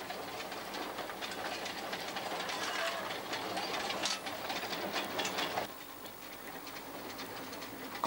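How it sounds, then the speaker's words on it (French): The small historic steam train of Pithiviers rolls along at moderate distance, giving a steady rumbling clatter of rail wagons with sharp rhythmic clicks that soften abruptly near the end; faint birds are audible in the background. "vous embarquerez dans le petit train à vapeur historique de Pithiviers"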